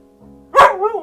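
A single loud, sharp bark from a dog, close by and abrupt, following a brief quiet murmur.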